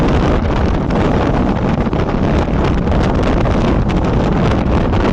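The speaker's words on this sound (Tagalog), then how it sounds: "Lakas-lakas pa ng hangin" Strong wind roars continuously against the microphone, loud and buffeting, with no other clear sounds.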